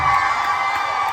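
College students at an Onam celebration on a Bangalore campus cheer and whoop as a crowd in a steady roar, loud and close, with no break over the short stretch.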